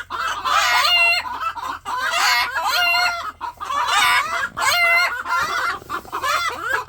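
Black Ayam Cemani chickens cluck and crow close by, loud repeated raspy crows and clucking calls in several bursts with short pauses, alone with no talk.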